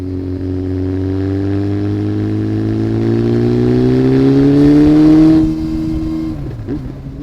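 Honda CBR 900 RR Fireblade motorcycle, a 1990s sport bike, its engine revving up loud and close with a rising tone that climbs steadily for several seconds before dropping off and settling.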